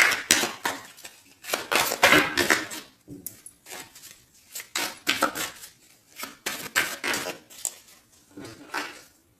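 Tarot cards being shuffled by hand, a series of crisp riffling and flicking bursts in irregular rhythm with short pauses between them, close and fairly loud, with no talk.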